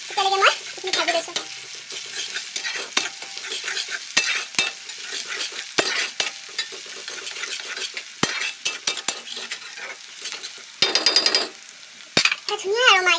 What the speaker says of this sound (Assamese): আদা নহৰু কেঁচা গোন্ধটো নাযায় তেতিয়ালৈকে মই এইখিনি ভাজি লৈছোঁ